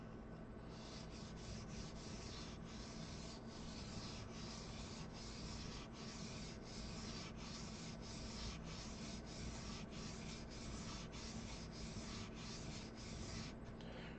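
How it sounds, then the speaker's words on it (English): A chisel blade is worked back and forth on a sharpening or polishing surface, giving a steady, continuous close rubbing hiss with faint regular stroke pulses throughout and no talk. "With all my chisels or chisel-shaped blades, I always polish the back too"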